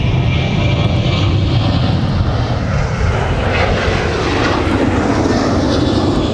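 Jet airliners landing and taking off at Minneapolis–St. Paul airport, a loud continuous engine roar with broad rushing noise that holds steady throughout, close by and without talk.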